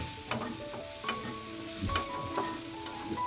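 Garlic, ginger, bay leaf, onion and tomato stirring and frying in a pan, with a soft continuous sizzle and scattered scraping clinks of a spoon against the pan at a moderate level, with no talking.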